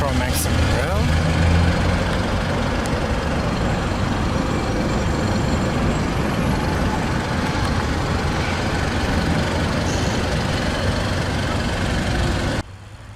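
A 2016 Mazda 6 with a naturally aspirated 2.5-liter inline-four idles steadily, giving a continuous broadband rumble with engine hum that holds evenly throughout, cutting off abruptly near the end.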